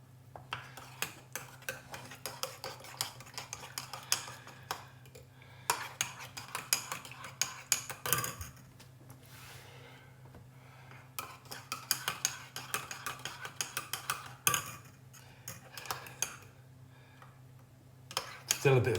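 Spoon stirring gravy granules into gravy in a pan, scraping and clinking in repeated quick bursts, with a pause around the middle and a person talking faintly in between.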